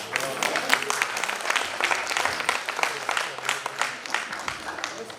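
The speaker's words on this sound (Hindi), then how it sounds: "उनका तालियों के साथ हौसला अफजाई करेंगे।" An audience at a founder's day function in Dehradun claps steadily, a dense applause that carries on without a break for several seconds.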